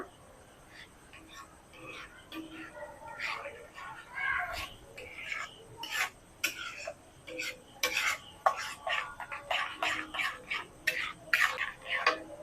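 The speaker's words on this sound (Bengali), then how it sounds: "এবার খুব ভালো করে মিক্স করে নেব" A kulfi ice cream mixture with cashews is stirred by hand, giving soft scraping and rubbing strokes with light utensil clinks. The strokes come in irregular bursts and grow busier and louder partway through, close by with no talk.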